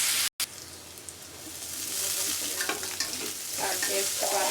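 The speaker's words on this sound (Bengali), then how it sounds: "এখানে আমি একটু বাটা রসুন দিয়ে দেবো, যাতে গ্রানটা আসে, সেই জন্য বাটা রসুনটা দিয়ে দিচ্ছি।" Garlic paste hitting hot oil with browning onion for a basella greens dish: a rising, close sizzle with spatula stirring and scattered spattering pops, after a short dropout at the start.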